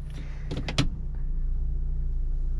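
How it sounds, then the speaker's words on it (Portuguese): Power windows close on a 2015 Honda Civic 2.0 LXR, a few quick clicks and knocks followed by a steady electric motor whine running continuously inside the car, with a low idle hum beneath. "Eu vou fechar os vidros aqui"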